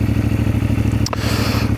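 A CFMOTO MT450 motorcycle engine runs steadily and close by with a loud, pulsing low throb, a brief clatter near the middle, and no talking.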